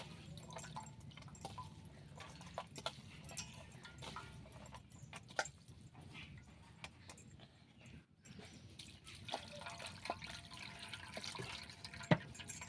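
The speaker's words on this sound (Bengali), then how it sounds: "এখন এই ম্যাগিটা আমি একটু ঠান্ডা জল দিয়ে ভালো করে এটা ধুয়ে নিব।" Cold water rinses cooked Maggi noodles in a kitchen, soft splashing and dripping with scattered small clatters, faint and close, with no talking.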